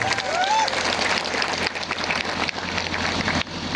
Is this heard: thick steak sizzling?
no